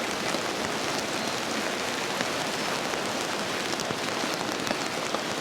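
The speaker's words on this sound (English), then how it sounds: "It's crazy, crazy amount of rain." Heavy rain drums steadily on a tent at a campsite in the far south of New Zealand's South Island, a dense, unbroken patter of drops close overhead with no voices.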